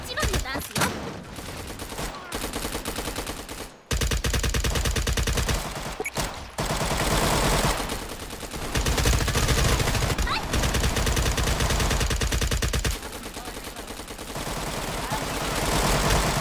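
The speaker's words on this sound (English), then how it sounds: "There's so much shooting going on." Nonstop loud gunfire roars through a Garry's Mod scene, long sustained volleys broken by a few brief gaps, with a voice talking over the din.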